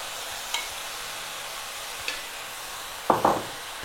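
Green onions and cooked noodles stir-fried over high heat give a steady low sizzle, broken by a few light scrapes and a louder double clatter of stirring near the end.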